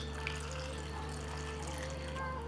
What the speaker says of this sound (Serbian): I jagode ću preliti sa vodom.